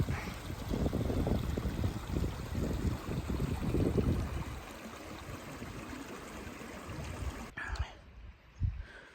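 Soft, steady trickle of running water from a water feature on a Kinder Scout hiking route, continuous and fairly quiet, with low wind rumble in the first half and a brief shift near the end.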